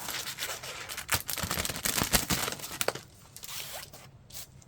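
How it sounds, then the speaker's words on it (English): A resealable plastic bag from a 1/48 model kit is pulled open, producing a series of close crackling zip-like snaps and rustles in quick bursts, then quieter plastic handling. "So I can get into this bag quickly."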